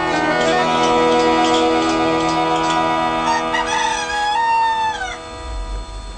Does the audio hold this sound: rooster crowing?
yes